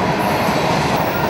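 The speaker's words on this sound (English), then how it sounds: "literally just have a train rolling through this crazy canyon" Train cars roll steadily through a Mojave Desert canyon, a loud, continuous rumble with wheel noise that fills the whole stretch without talk.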